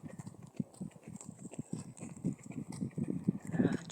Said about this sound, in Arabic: رانا راكبه على الحمار